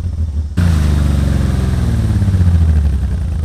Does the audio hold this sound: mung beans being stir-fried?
no